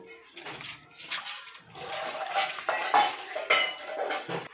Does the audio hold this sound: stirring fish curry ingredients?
yes